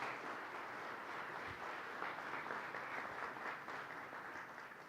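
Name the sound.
audience applauding the speaker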